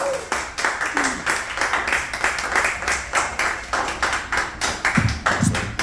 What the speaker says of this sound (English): Clap it up, Artie from Bridgeport.